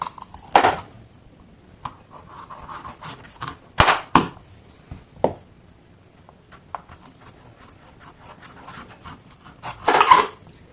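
Pumpkin pieces being cut on a board give a few sharp, separate knocks and thuds with quiet gaps between them, close by and without talk.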